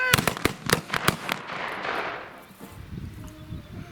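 A volley of percussion smoothbore muskets fires at a historical militaria shooting match: a rapid ragged string of sharp cracks at middle distance fades into rolling echo and outdoor background noise.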